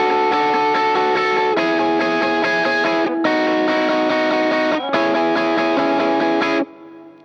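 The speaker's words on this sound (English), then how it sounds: "I'm actually building it with an 8th high-strung strumming part up the top." Distorted electric guitar strumming a steady wash of high eighth-note chords that shift every couple of seconds, then cutting off abruptly near the end.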